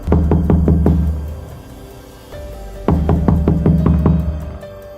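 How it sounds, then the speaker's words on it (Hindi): Loud, close knocking on a door in two bursts of rapid, hard raps separated by a brief pause, with no one talking. "जोर से दरवाजा खटखटाती है।"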